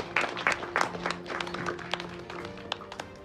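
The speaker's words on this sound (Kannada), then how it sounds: "ಅಧ್ಯಕ್ಷರನ್ನ ಬರಿ ಮಾಡ್ಕೊಳ್ಳೋಣ ಚಪ್ಪಾಳೆ ಮುಖಾಂತರ." Scattered clapping from the audience at a Kannada film trailer launch event, greeting the chief guest. It starts with a few sharp, fairly near claps and thins out into sparse, isolated claps with no talk over it.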